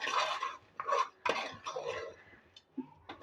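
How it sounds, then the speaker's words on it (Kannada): Toor dal being mixed and fried in a pan with a utensil, giving a series of close scraping and clinking strokes in short bursts with brief pauses between them, no voices. "ಬೇಳೆ ಇವಾಗ ಈ ರೀತಿ ಮಿಕ್ಸ್ ಮಾಡ್ಕೋಬೇಕು. ಇದನ್ನು ಒಂದು ನಿಮಿಷ ಫ್ರೈ ಮಾಡ್ಕೋಬೇಕು."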